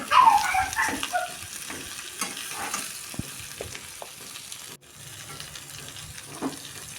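Ginger garlic paste frying in hot oil in a home kitchen, a steady close sizzle with scattered stirring clatter for about seven seconds and no talking.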